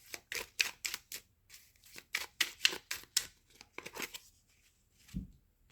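Tarot cards being shuffled and cut by hand, a quick run of crisp riffling slaps and snaps in clusters, close and fairly quiet, ending with a soft low thump.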